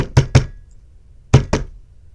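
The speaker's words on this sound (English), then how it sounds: "like behind the armor in the wall, there's a knocking sound?" Two pairs of loud, close knocks on a wall, each pair a quick double rap, separated by about a second of quiet.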